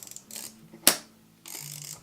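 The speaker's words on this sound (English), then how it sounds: "So we wind the film" Close, quiet ratcheting clicks of the film advance lever on a DeJur D1 camera, with a sharp mechanical snap in the middle and a second run of winding clicks.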